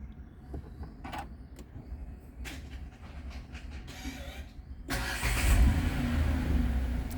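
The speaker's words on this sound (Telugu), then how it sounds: "సో వెహికల్ ఒకసారి స్టార్ట్ చేద్దాం." A Renault Triber RXZ car engine cranks and catches after a few seconds of mechanical creaks and clicks, then settles into a steady, fairly loud idle close by.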